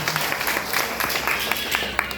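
At a women's savings and credit cooperative's annual general meeting, the gathering claps steadily for a couple of seconds, a moderately loud patter of many hands with a few sharper individual claps.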